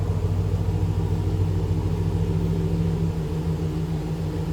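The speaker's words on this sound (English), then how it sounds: "let's listen, nothing crazy over the top. Just a nice sounding. Again, 392 Hemi V8 power." A deep, steady 392 Hemi V8 engine in a 1965 Chrysler Newport restomod idles with a smooth low rumble, constant and close, with no voices over it.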